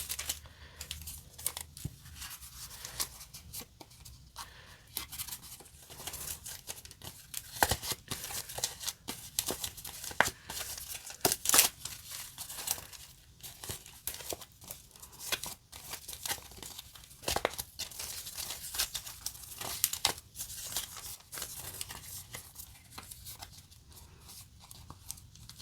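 Tape tears and crinkles while nail foils are wrapped, with repeated close rustling, crackling and ripping sounds throughout and no speech.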